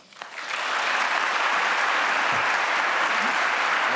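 Audience applause welcoming Dr. Mona Hanna-Attisha to the stage at the Westminster Town Hall Forum in Minneapolis, a large crowd clapping steadily and densely for several seconds after a brief quiet start.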